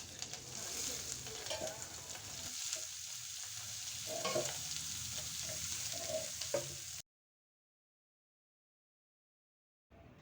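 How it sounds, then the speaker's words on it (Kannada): Onion, green chilli and curry leaves frying in hot oil for a tempering, a steady loud sizzle with stirring scrapes in a pan for about seven seconds before cutting to silence. "ಈರುಳ್ಳಿ, ಹಸಿಮೆಣಸಿನ್ಕಾಯಿ, ಕರಿಬೇವು, ಕೊತ್ತಂಬರಿ ಮಾತ್ರ ಸೇರಿಸಿ ಒಗ್ಗರಣೆ"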